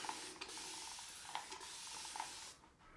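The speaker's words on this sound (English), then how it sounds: "More water on the face." Water is sprayed onto a face before a wet shave, giving a soft continuous hiss punctuated by a few brief spritz bursts, quiet and close, with no talking.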